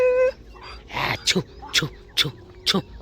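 Dogs whimper and let out a series of short, high yips, four evenly spaced cries close by after a brief opening sound.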